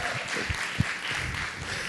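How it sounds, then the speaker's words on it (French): A church congregation breaks into applause, a steady wash of clapping that fills the short moment at moderate loudness, with no voices standing out above it. "Je veux qu'on applaudisse."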